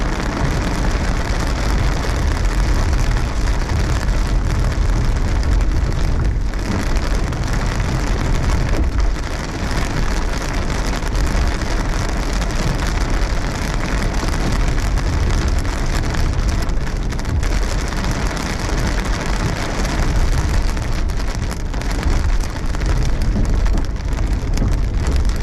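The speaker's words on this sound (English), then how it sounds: "There are some big hailstones mixed in here." Heavy storm rain with big hailstones mixed in near DFW, a dense, loud, continuous hiss and patter of pounding precipitation filling the whole stretch with no let-up and no voices.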